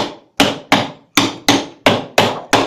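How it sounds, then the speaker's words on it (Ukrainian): A hammer taps a concrete post mould in a steady series of seven or eight sharp, loud taps, each ringing briefly before the next, with no talking. "стуканням молотка"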